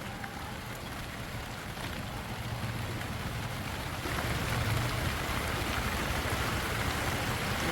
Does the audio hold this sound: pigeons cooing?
no